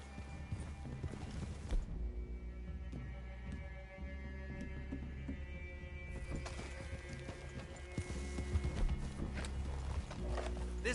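Horses clip-clop at a walk in Red Dead Redemption II, soft repeated hoof knocks over a low steady hum, with occasional louder thumps and a faint whinny.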